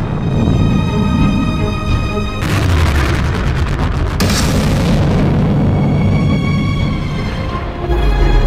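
The atomic bomb explosion over Hiroshima, equal to 15,000 tons of TNT, is a loud, sustained, deep roaring blast with crackling bursts partway through that rumbles on for several seconds.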